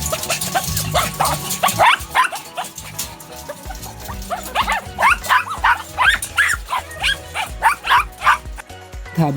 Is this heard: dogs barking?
yes